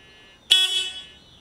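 A single short car horn beep sounds close by, a bright tone that decays over about half a second against quiet background.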